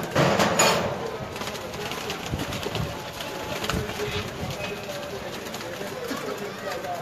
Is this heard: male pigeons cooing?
yes